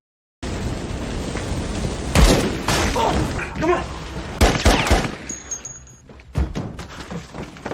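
Rapid bursts of film gunfire crack and echo amid crashing impacts and shattering, loud and chaotic, with brief pauses between volleys.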